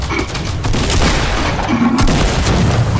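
Grenade launcher blasts in Fortnite, several loud, close booms in quick succession with gunfire crackle between them, no talking.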